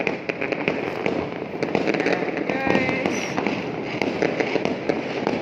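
Fireworks and firecrackers bursting outdoors for Chinese New Year, a dense run of sharp cracks and pops near and far, with excited voices talking over the blasts.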